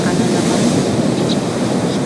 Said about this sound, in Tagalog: Malalaki yung alon.